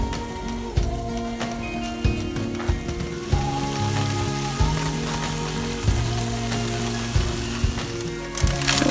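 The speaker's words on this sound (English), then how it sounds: "I'm going to fry that" Homemade Krispy Kreme–style donuts fry in hot oil with a steady, crackling sizzle like light rain. Occasional sharper pops and clicks sound through it, with background music playing underneath.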